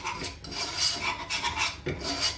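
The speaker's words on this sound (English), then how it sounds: "I'm using a whisk because obviously I'm going to add the milk soon, so I'm using the whisk for that" Flour and butter whisked together in a pan as a roux for a cauliflower cheese sauce, giving close, steady rasping strokes with short rhythmic scrapes throughout.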